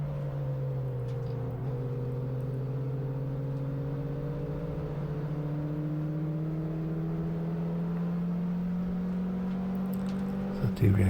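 Mini race cars howl around the Kirkistown circuit, a steady layered engine drone that slowly climbs in pitch as the pack holds speed, with a brief sharper burst at the end.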